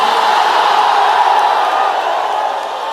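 A large crowd at a religious political rally for Eid-e-Milad roars a slogan in unison, a loud, dense, sustained shout from many voices that fades slightly toward the end.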